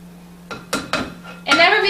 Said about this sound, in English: Give that a good scrape.